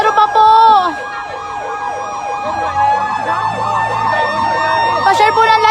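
Fire truck siren arriving at a large fire in Villar City, a loud close wailing siren that rises and falls steadily throughout, with people talking faintly beneath it.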